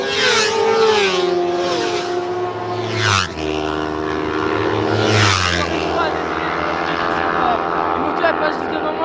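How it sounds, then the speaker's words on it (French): Racing motorcycles on the 3 km Lédenon circuit near Nîmes roar past close by one after another, engines revving high with rising and falling pitch sweeps as each bike passes, loud and continuous. "Les motos elles passent juste devant moi, du coup ça fait pas mal de bruit."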